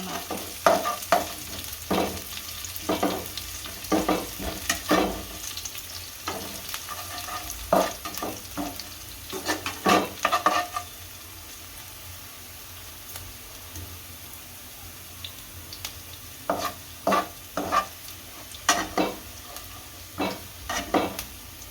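Green chillies sizzling in a hot pan while being made for momos chutney, a soft continuous frying hiss broken by repeated scraping and stirring strokes of a utensil against the pan, with a quieter stretch midway.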